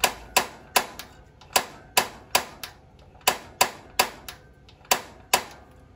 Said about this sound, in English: press it into that little flame there, with the sparker, and as it clears all the air to that propane line, you will get that pilot light in the back fire up